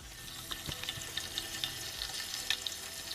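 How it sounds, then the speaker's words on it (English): Food heated straight in its can sizzles softly, a faint steady crackle broken by small pops and light scraping. "It's already making a nice little sizzle."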